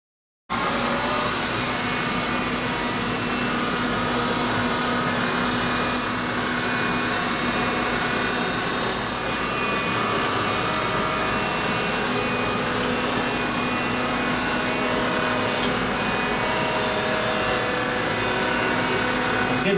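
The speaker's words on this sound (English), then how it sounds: "Now finally we'll go on to the edge cleaning test and see how well the machine can edge clean." Cordless stick vacuum cleaner, Dyson DC35 Digital Slim or Hoover Linx, running during an edge cleaning test: a loud, continuous high whine and airy roar that holds steady throughout, with no talk.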